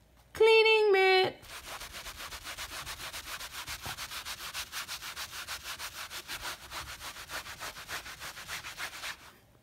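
A cleaning mitt scrubs a shoe scuff on a couch with steady, rapid back-and-forth rubbing strokes, close and moderately loud, after a brief bright electronic sound at the start.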